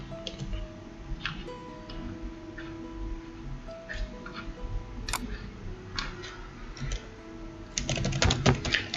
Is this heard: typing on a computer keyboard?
yes